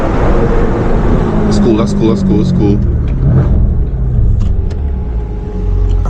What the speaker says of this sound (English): Burbles.